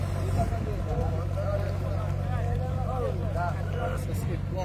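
Fishermen's boats carrying hilsa come in one after another to a Padma river ghat, a steady low engine drone under a busy crowd of voices nearby.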